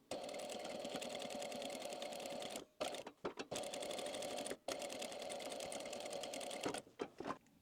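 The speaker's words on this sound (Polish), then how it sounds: "Przykładamy stopkę wzdłuż krawędzi i zaczynamy szyć od brzegu." A sewing machine stitching fabric along the edge while sewing a bauble-shaped pillow, running in a steady fast whirring chatter with a few brief stops and restarts.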